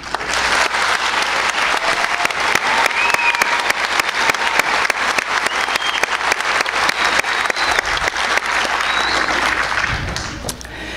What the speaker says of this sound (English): if we could just take a moment and applaud them